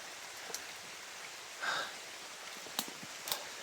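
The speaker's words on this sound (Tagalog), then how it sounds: "ang lakas ng ulan guys" Steady rain hisses continuously, with a few sharper drips or taps standing out near the end.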